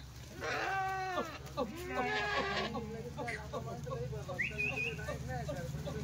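Several Kathiawari goats bleat repeatedly nearby, their wavering cries overlapping one another, with a quieter steady hum beneath.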